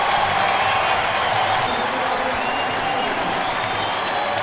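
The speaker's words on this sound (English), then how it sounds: "you hear this Orioles crowd getting loud in the box" A big Orioles baseball stadium crowd roars and applauds after a double to right center, a loud, sustained wash of cheering and clapping filling the whole stretch.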